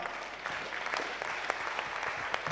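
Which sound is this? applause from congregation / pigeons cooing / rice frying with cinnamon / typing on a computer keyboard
applause from congregation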